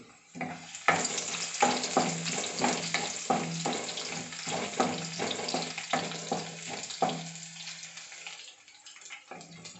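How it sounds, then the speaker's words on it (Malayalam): Garlic and ginger frying in a cooking pot for a spicy chicken curry: a steady close sizzle broken by repeated scraping stir strokes, the hiss easing off near the end. "ആദ്യം വെളുത്തുള്ളി ഇഞ്ചി ഇടാം"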